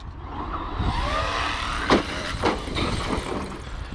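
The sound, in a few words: Traxxas X-Maxx RC car driving over bike park jumps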